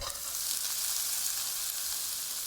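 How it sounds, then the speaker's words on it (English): Steady, loud sizzling of vegetables frying in a hot wok, a continuous crackling hiss with no talking. "Listen to that sizzle."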